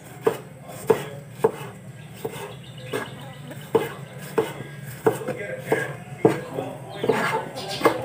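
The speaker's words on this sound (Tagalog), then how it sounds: "Okay, so slice." A knife slicing ginger on a cutting board for tinola, a steady run of crisp knocking chops about one per second, close and clear, with faint background noise.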